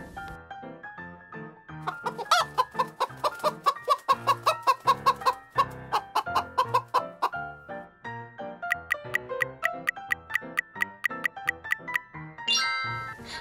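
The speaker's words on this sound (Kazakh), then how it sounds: "Дұрыс, тауық." A hen clucks in short repeated bursts over a steady, bouncy tune, the clucks loud and close with brief pauses between runs.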